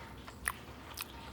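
Crisp bites into crunchy Korean fried chicken drizzled with spicy sauce, two short, faint crunches heard close up in a quiet room.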